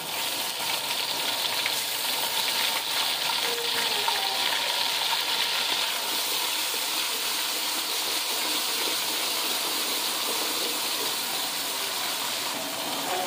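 Garlic-ginger paste sizzles in hot oil over browned onions while beef nihari is being cooked, a steady, close hiss and crackle of frying that holds evenly throughout with no voices.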